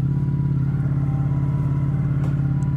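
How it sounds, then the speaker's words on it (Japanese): A Ducati Streetfighter V4S motorcycle engine runs at a steady, loud idle, a deep continuous rumble close by with no noticeable revving. "ストリートファイター V4S、 今ドカティで一番売れてるバイクでございます"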